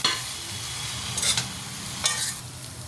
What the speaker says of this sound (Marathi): हे ब्रेडचे तुकडे केलेले आहेत ते टाकूया फोडणीला आणि हलवून घेऊया